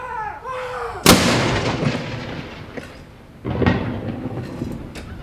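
A single artillery round from a gun salute fired by the Royal Gibraltar Regiment booms out loud and sudden, rolling into a long echoing rumble, with a second quieter report following a few seconds later.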